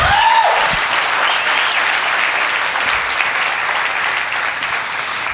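Church congregation applauding at a performance, steady loud clapping from a large crowd that fills the whole stretch without letting up, with no talk over it.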